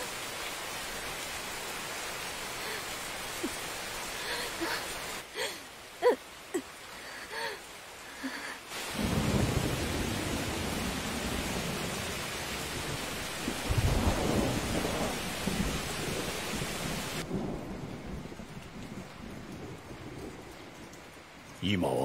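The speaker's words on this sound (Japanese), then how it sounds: "こうして恵みの雨も降る" Steady rain falls with rolling, heavy thunder in a samurai anime scene, the noise shifting between hissing downpour and loud rumbles, with brief quiet breaks and faint talk.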